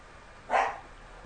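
A single loud, sharp dog bark stands out clearly over low steady background noise, with no talking around it.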